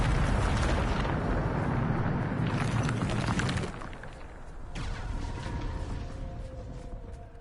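A Bombarda spell blast in the video game Hogwarts Legacy, a loud rumbling eruption that sustains for several seconds, then drops to a lower crackling roar.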